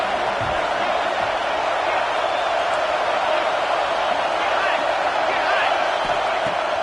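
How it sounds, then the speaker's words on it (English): A packed Alabama Crimson Tide home stadium crowd at a football game against Oklahoma, roaring loud and sustained as a steady wash of noise on third down. "The Tide crowd rolling noise down onto Saban Field on 3rd down."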